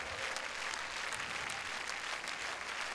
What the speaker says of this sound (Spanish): ¡Arriba las palmas! ¡Arriba las manos!